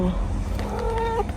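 A pet cat meows in drawn-out, wavering cries over low background rumble, with people talking nearby during a family holiday.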